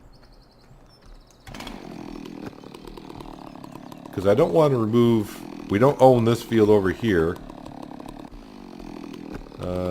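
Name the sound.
hedge-cutting machine in video game Farming Simulator 17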